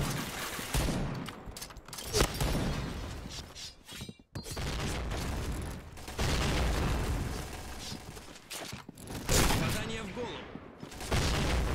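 Gunfire in the video game Point Blank, including a Cheytac M200 sniper rifle, cracks out in repeated bursts and single shots amid explosive booms and chaotic background noise.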